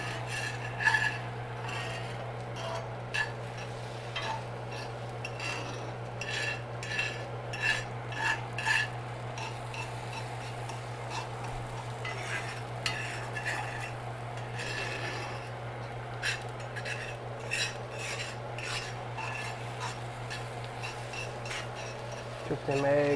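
A fork scrapes and stirs eggs around a cast iron skillet greased with bacon fat, giving repeated light metallic clinks and rasps over a steady low hum, with someone talking at times.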